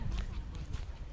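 A horse being ridden on a horse farm in winter clip-clops steadily, with soft, muffled hoofbeats under a background rumble and nearby talk.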